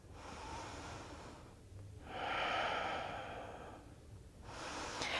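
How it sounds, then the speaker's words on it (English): Two slow, full breaths taken during a morning vinyasa yoga flow, each a soft, airy inhale and exhale close to the listener, quiet and alone. "2 full breaths"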